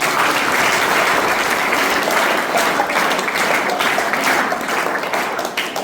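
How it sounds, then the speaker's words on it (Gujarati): Audience applause for children who came dressed up to perform at a children's values assembly in Pune, a dense, steady ovation of many hands sustained throughout at close range with no speech. "પહેલા તો તાળી બેટા તાળી"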